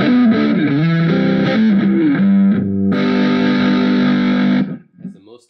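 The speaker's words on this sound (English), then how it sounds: "has the most gain on tap and doesn't have any reverb" Electric guitar played through a Positive Grid Spark 40 amp at its highest-gain setting with little reverb, thick distorted chords sustaining loudly for several seconds before cutting off abruptly into near silence.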